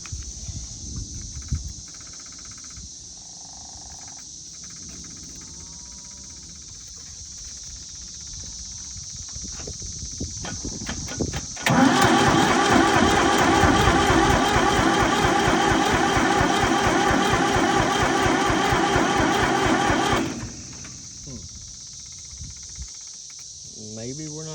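Old Brouwer forklift with a Ford 3-cylinder diesel engine cranking, then catching and running loudly for about eight seconds before cutting out, with a steady insect-like hiss throughout.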